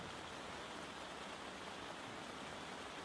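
Rain falls on a tent as a dense, even patter with no distinct drops standing out, heard alone without any voices.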